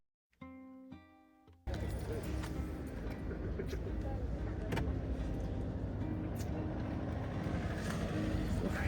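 Car driving on a road, with a steady close cabin rumble of engine and tyres that starts abruptly after a short electronic chime and continues throughout.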